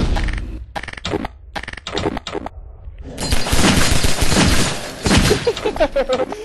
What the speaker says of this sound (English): We're shooting at it like crazy.